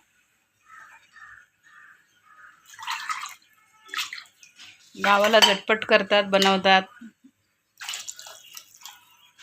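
Water poured into a metal cooking pot of potatoes for a village-style potato curry, a loud splashing burst in the middle, with clattering utensils and someone talking before and after.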